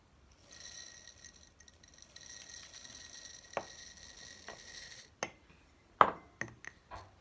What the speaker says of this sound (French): Ensuite, je verse par-dessus le riz.